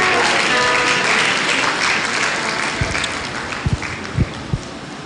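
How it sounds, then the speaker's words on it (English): Audience applause at a university induction ceremony and lecture for medical laboratory scientists in Nigeria, a dense, loud wash of clapping filling the hall and tapering slightly, with a few sharp low thumps near the end. "Please, a round of applause for the Vice Chancellor."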